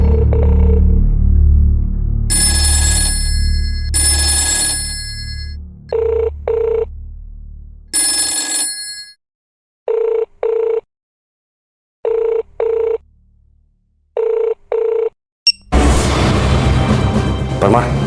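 Telephone ringing in a TV crime drama scene, loud repeated electronic ring bursts in a steady rhythm after an initial rumbling passage, ending with a burst of noise.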